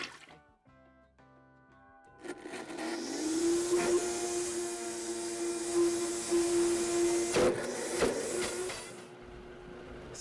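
A Vitamix blender spins up after a short quiet start and runs as a loud, steady, high-pitched motor whir with a sustained tone, briefly knocking around the middle and cutting off near the end.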